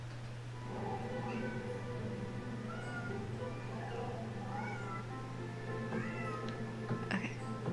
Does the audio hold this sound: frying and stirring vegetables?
no